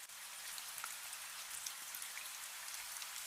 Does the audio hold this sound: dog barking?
no